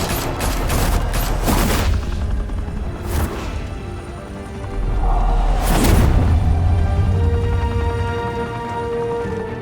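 Heavy bursts of gunfire in Batman: The Telltale Series, several loud, booming volleys rising and falling, with strong low-end thumps and ringing reverberation between them, no talking.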